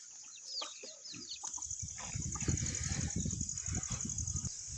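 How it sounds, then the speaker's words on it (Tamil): Chickens grazing in a garden cluck and chatter nearby over a constant high insect-like buzz, with scattered soft scratching sounds. "நம்ம கார்டனுக்கு போகும்போது கோழியெல்லாம் நல்லா மேய்ஞ்சிட்டு இருந்தது பாருங்கள்"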